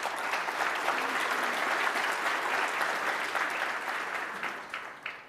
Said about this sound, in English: Please join me in giving them a collective round of applause.